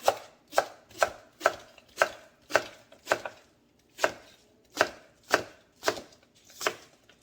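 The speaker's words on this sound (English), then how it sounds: "once you have them all peeled, you want to go ahead and slice them up" A knife slices through peeled taro stems on a cutting board, producing a steady series of about a dozen crisp, evenly spaced chops, close and fairly quiet.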